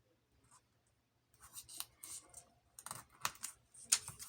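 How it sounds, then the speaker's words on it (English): Paper being folded and creased by hand for a lavender junk journal, giving quiet, scattered crisp rustles and sharp pressing clicks that grow busier after a brief silent start. "Making a crease, and then I'm going to bring it up to that line, fold it again, turn it over"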